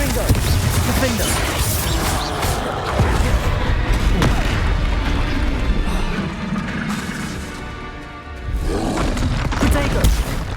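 Spell blasts in the Hogwarts Legacy video game crash and boom in rapid succession, loud and close, with roaring impacts and whacks layered almost continuously, briefly easing before another burst.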